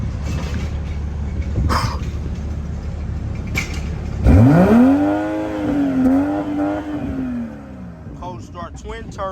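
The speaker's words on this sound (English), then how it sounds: "Get a cold start on this car real quick." Cold start of a twin-turbo BMW 340i: the engine catches with a sharp surge, settles into a rising and falling rev, then drops to idle as voices chat over it.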